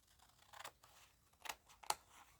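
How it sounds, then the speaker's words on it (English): Scissors trimming overhanging paper edges on a die-cut collage, a few short crisp snips close by, the clearest near the end, in a quiet room with no talk. "I'm just going to trim off both those bits."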